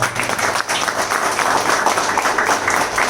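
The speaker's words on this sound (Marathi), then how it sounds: "तुमच्या सगळ्यांना एकदा सुनीतासाठी जोरात टाळ्या वाजवा" Audience applause at a Marathi book launch ceremony for a newly published book, a steady dense wash of many hands clapping throughout, fairly loud and continuous, with no talk over it.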